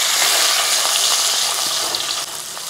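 Shallots, ginger and green chilies sauté in a hot pan for fish curry, giving a steady, close, fairly loud sizzle with light crackle that eases slightly toward the end, with no talking.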